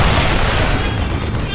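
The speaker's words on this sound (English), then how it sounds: "siege tanks in siege mode" Starcraft 2 siege tanks in siege mode fire heavy, booming shots amid a loud, dense battle din, with thumping impacts packed tightly together over a brief burst.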